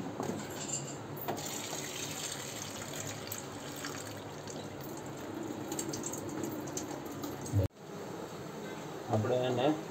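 Chopped papaya pieces are washed under running water at a kitchen sink, giving a steady close splashing rush that continues for the whole stretch, with a short break near the end.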